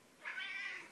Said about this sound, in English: I'm going to feed the cat, but he's so talkative when he wants food.